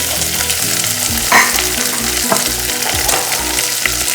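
Potatoes, capsicum and carrot fry and sizzle in a pan for cracked wheat upma while a utensil stirs them, a loud steady hiss with occasional scraping strokes and a low rhythmic hum underneath, close and without voices.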